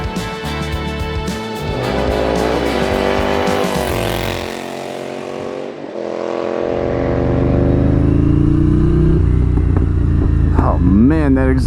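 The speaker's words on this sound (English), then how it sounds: "Man, that exhaust sounds sick." A Ducati Desert Sled scrambler motorcycle's exhaust revs hard and close, its engine note climbing and dropping through several throttle blips before holding a loud, sustained drone.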